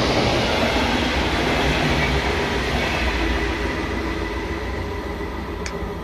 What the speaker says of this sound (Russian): На Баден-Баден пошла электричка, ёлы-палы, а здесь не останавливается.